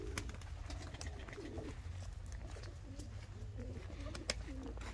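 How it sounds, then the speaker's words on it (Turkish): Domestic pigeons coo softly in low, repeated throaty bursts, several calls spread across a quiet, faint backdrop with occasional small clicks and no talking. "burada ne kadar kanadı gelmiş kuşlar var"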